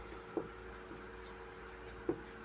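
Pen scratching out a handwritten definition of Coulomb's law, soft and close, with a few light taps and strokes over a quiet room hum.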